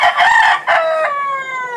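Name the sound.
black gamefowl rooster crowing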